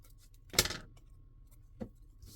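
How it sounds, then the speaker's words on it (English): Scissors snipping around a paper butterfly cut-out for a collage: one crisp, close snip early on, then a fainter second cut in an otherwise quiet room. "then I'll cut my butterfly out a little bit more"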